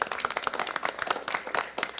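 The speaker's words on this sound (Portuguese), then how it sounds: "A gente aplaude novamente" A small group applauds in a meeting of a broadcaster's board of trustees, with quick, irregular hand claps close by, steady over two seconds and not very loud.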